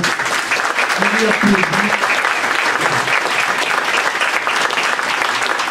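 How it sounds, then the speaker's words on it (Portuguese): A room of people applauds a class after a project presentation, steady dense clapping throughout with a few murmured voices near the start. "Então eu gostaria de uma salva de palmas para essa turma."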